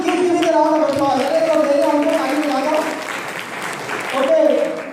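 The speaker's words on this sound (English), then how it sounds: "Keep giving a round of applause." An audience claps steadily at a Rigved Mahayajnya ceremony honouring chief guests and supporters, with a voice speaking over the sustained applause.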